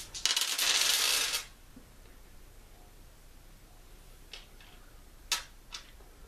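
Dice rolled during a tabletop game of The Batman Who Laughs Rising, a loud, bright rattle lasting about a second, followed by a quiet stretch and a few faint, sharp ticks as pieces settle.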